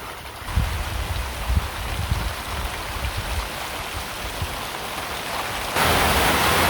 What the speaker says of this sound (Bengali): এই যে দেখেন ঝড় বৃষ্টি শুরু হয়ে গেছে